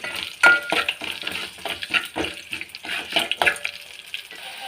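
Chana dal and curry leaves being tempered in hot oil, a soft continuous sizzle broken by repeated stirring scrapes and clinks at a steady rhythm.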